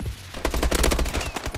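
Rapid automatic gunfire in the Call of Duty: Advanced Warfare shooter, a dense burst of overlapping shots building to a loud stretch in the middle and then trailing off, with no talking.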